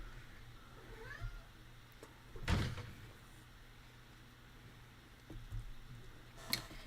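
A cat meows indoors, a few short cries with one louder, drawn-out meow in the middle, plus faint clicks and a sharp knock near the end against quiet room tone.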